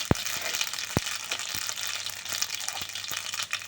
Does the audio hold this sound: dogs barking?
no